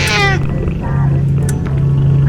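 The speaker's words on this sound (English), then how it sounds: "Hey, there's a cat." A cat in the video game Psychopathy Assessment gives a short meow at the very start, set in a blood-splattered apartment. A steady low hum runs beneath it and continues afterward.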